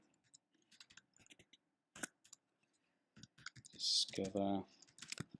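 Keys on a computer keyboard click in irregular bursts of typing, close and fairly quiet, with someone speaking briefly over them partway through.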